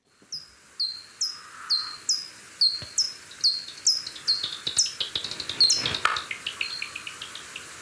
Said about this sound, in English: you might just have heard that crackly, then popping sound. Now, that is the sound of a bat.